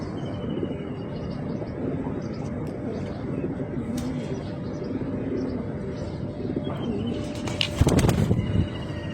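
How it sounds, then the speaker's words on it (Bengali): Pigeons coo softly in a loft housing many bloodline birds, a low steady murmur of calls with a brief burst of wing flapping near the end. "এখানে অনেক ব্লাড লাইনের কবুতর আছে।"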